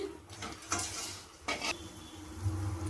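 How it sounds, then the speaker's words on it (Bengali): Pumpkin flower fritters fry in hot oil one at a time, a close crackling sizzle interrupted by brief bursts of hissing and a few metallic clinks of a utensil against the pan. "আমি একটা একটা করে কুমড়ো ফুলগুলো ভেজে নেব লাল লাল করে।"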